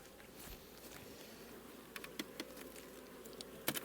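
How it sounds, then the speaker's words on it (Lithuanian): Honey bees buzz around a hive during the day while colonies are being merged, a faint steady hum with a few louder passes of bees flying close by. "dabar čia sugrįžgi bitės, nes diena yra"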